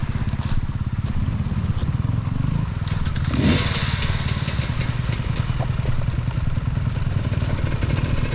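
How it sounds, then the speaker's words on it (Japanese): A dirt bike is moved on rough natural terrain: a motorcycle engine putters steadily at idle close by, with clattering and scraping bursts midway. "ここで近藤さんのバイク持ってくるか"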